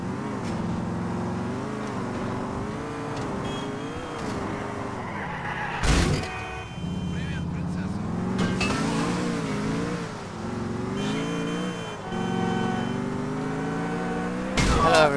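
Car engine in the video game GTA IV, droning and revving steadily with rising and falling pitch as it drives, broken by a few sharp impact noises.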